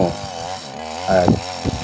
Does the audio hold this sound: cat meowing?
no